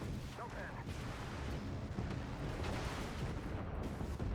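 Rocket barrage from a TOS-1M Buratino in a video game, a dense continuous rumble of overlapping launches and impacts, loud and unbroken throughout.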